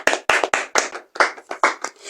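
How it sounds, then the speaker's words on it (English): Close, loud clapping from a small group at a church teaching session, a series of sharp irregular claps with brief ringing decays. "Let's clap for him."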